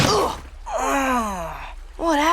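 A short cartoon gasp from the Adventure Time character Finn, a rising then falling vocal breath between bits of animated dialogue from the show.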